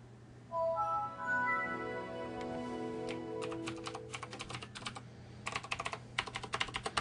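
A password is typed on a computer keyboard during a Linux Mint and Windows 7 dual-boot setup. A few soft tones come first, then a run of close, crisp keystrokes clatters in uneven bursts.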